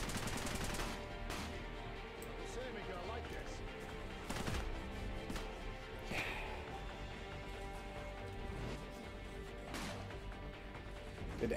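Gunfire in the Cepheus Protocol zombie RTS rattles on throughout, dense overlapping volleys with a few sharper louder bursts, loud and continuous with someone talking over it.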